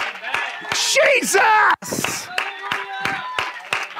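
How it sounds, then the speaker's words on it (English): A church congregation clapping in rhythm, sharp repeated claps mixed with loud singing or shouting voices. "Clap your hands to the Lord and shout."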